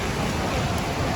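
Steady rain falls outdoors in Hachinohe, Japan, as a dense, continuous hiss that stays even and close throughout, with no voices over it.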